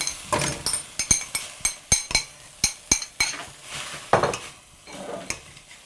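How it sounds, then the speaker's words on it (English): Vegetables stirred in a cooking pot while making an Asian beet soup, with a series of sharp, close clinks and scrapes of a utensil against the pot in an uneven rhythm, over a faint sizzle. "while I stir the vegetables"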